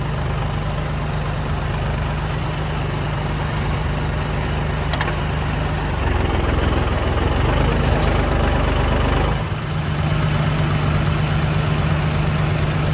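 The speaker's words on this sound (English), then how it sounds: "He's got his Vermeer baler out here." A Vermeer hay baler runs steadily in the field during hay season, a loud continuous low engine drone with a mechanical hum and a brief shift in tone partway through, no talking.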